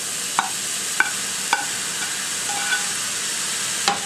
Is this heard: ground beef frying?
yes